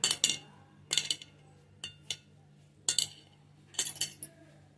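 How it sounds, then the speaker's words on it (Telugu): Punugulu batter being mixed with buttermilk in a bowl, heard as five clustered bursts of spoon clinks and scrapes against the bowl at a steady rhythm, fairly close, with quiet gaps between and a low steady hum underneath. "మొత్తం బాగా కలుపుకోండి"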